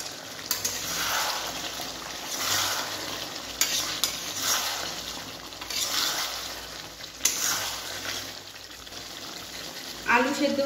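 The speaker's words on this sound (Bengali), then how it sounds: "ভালো করে নাড়িয়ে চাড়িয়ে নেব।" Pumpkin and potato curry with garam masala stirred in a pan, rhythmic scraping sweeps over a bubbling sizzle, with a few sharp utensil taps and a brief voice at the very end.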